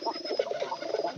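Pigeons coo in a low, burbling run of short throaty notes, close and moderately loud, with a thin steady whine in the background and no speech.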